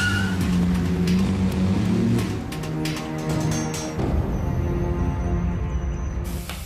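A car accelerates in a loud, continuous engine roar that fills the whole span, with a gritty rushing edge and slight shifts in pitch as it speeds up.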